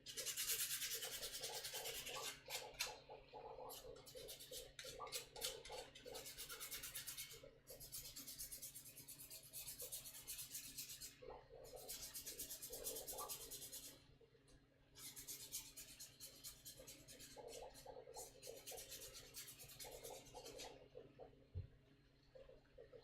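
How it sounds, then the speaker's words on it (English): Repeated back-and-forth rasping of 100 grit sandpaper buffing a 3D-printed part, in bursts of strokes with short pauses, close and fairly quiet. "just give that a nice little buff with some 100 grit sandpaper"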